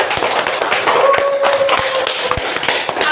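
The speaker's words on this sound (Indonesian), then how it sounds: "Kita beri tepuk tangan anak semua." Children in a classroom clap their hands together, a steady run of sharp, fairly loud claps close by, with faint background voices underneath.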